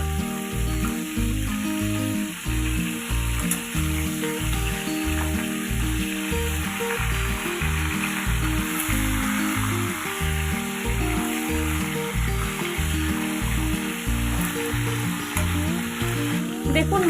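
Fish heads turned over and frying on both sides in hot oil, a loud continuous sizzle with rhythmic stirring and scraping pulses running through the whole stretch.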